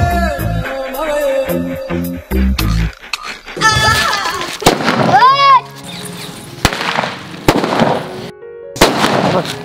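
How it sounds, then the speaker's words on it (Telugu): Diwali firecrackers burst at night in a village: sharp repeated bangs and crackles, with a rising whistling rocket in the middle. Voices are heard among the explosions. "ఇప్పుడు అన్ని బాంబులే కాకర పిల్లలు చిచ్చి బుడ్లు నైట్ ముట్టించుకుందాం"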